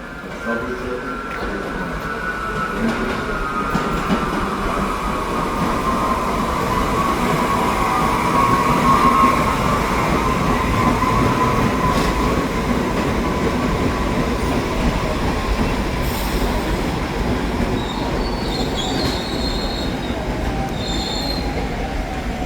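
A New York subway train rolls steadily along with a constant rumble and a long, high wheel squeal, heard from inside the car.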